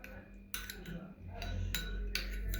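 Tomato paste being stirred with water in a kitchen pot, a spoon scraping and clinking against the sides in repeated strokes, close and fairly quiet.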